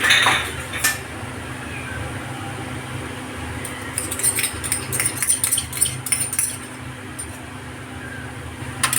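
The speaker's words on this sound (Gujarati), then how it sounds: "આવી રીતે હું સતત હલાવતી રહીશ" A spoon stirs almonds in ghee with saffron in a pan, giving intermittent metallic scrapes and clinks against the pan over a steady low background hum. No one speaks.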